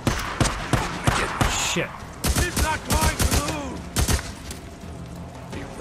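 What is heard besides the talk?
assault rifle gunfire in video game Days Gone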